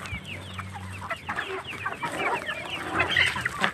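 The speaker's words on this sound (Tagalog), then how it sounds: "Gutom na ang aking Rhode Island chicken." Several Rhode Island chickens clucking in a backyard poultry pen, a busy overlapping chorus of close, fairly loud clucks and squawks with a low hum underneath.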